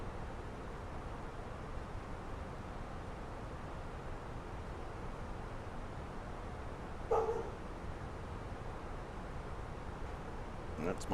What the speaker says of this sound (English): That's my dog, apologies.